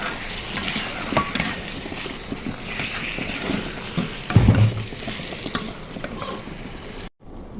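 Cloves, cinnamon and bay leaf frying in oil in a pan for a spicy country-chicken curry, a continuous sizzle with stirring scrapes and a louder knock midway, then a brief cutoff near the end.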